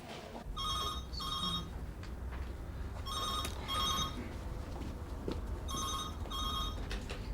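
A telephone rings in a police detective's office, three spaced double bursts of bright electronic trilling at moderate volume over a faint room hush, with no voices.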